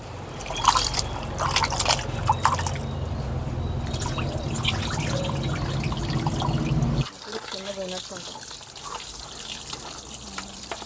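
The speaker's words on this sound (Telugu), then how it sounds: "వీటిని శుభ్రంగా కడుక్కుందాం." Fresh country chicken pieces are washed by hand in water in a kitchen, with splashing and trickling for about seven seconds, then quieter dripping; a voice talks over parts of it.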